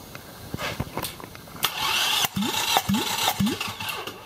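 A Toyota Camry 2.4-litre 2AZ-FE engine cranks on the starter during a compression test, giving a few rhythmic chugging pulses over a steady whirring, close and moderately loud with no talk.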